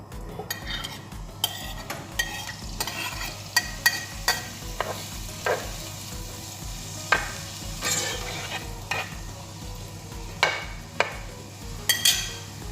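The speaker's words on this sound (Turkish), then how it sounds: "İndi də tavaya bir balaca yağ əlavə edib biraz da yağda qovuracağam" Boiled mushrooms frying in a little oil in a pan: a soft continuous sizzle with frequent spoon scrapes and clinks against the pan, close and steady throughout.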